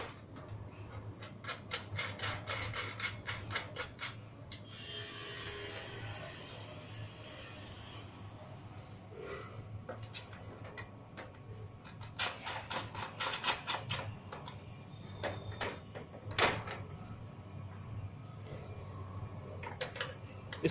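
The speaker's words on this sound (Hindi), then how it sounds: "फिर दूसरी जगह से दूसरा बोल्ट निकालिए और अब हम इस को टाइट कर देंगे नट से।" A nut is turned onto a bolt while fitting an alarm to a shop shutter, giving bursts of rapid, close metallic ratcheting clicks and rubbing with short pauses between turns.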